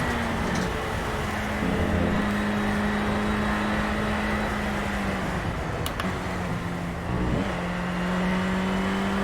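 Race car engine in the Project Cars video game, a steady loud drone with pitch steps as gears change via paddles, continuous throughout with no voices.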